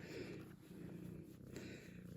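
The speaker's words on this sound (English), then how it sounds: "Don't mind the purring in the background." A cat purrs close by in a steady, soft low rumble that continues without break through the whole stretch, faint and quiet.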